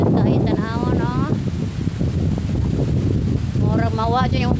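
Strong wind blows at an outdoor hillside viewpoint in Bagatpatan, buffeting the microphone with a constant loud, rumbling roar. A person talks throughout over the gusts.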